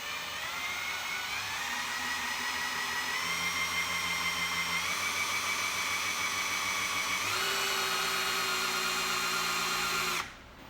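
A Milwaukee power tool runs steadily and loudly for about ten seconds with a rising whine that steps up in pitch partway through, then cuts off abruptly near the end, heard while working on an engine.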